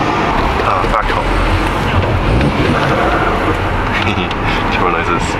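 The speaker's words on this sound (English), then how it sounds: "Turbo noises. Sounds so good." A Volkswagen GTI engine's turbo noise during a drive home after a stuck caliper brake job, a loud, steady, broadband roar mixed with wind and road noise, holding constant throughout.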